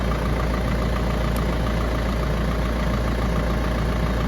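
A BMW R1150 GS starter motor, removed from the bike and wired straight to a battery, spins on a bench with a steady, loud, dense whirring hum that stays constant throughout, close by with no talking.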